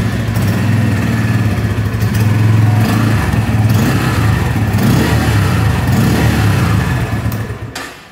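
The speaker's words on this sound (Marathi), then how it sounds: "आता मी तुम्हाला ह्या बाईकची गाडी स्टार्ट करून दाखवतो." A Bajaj Pulser N150 motorcycle, parked inside a showroom, runs steadily in neutral with a deep, continuous engine drone and a few light revs, loud and close for about seven seconds before cutting off.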